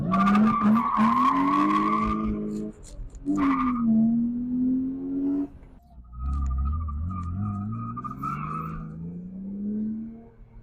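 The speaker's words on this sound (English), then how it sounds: "Nothing like a little skid to get your heart going." A BMW E36 with coilovers and a welded differential slides through corners. Its tires give long, loud squeals that rise and bend in pitch, with a short break between two skids, close to the car.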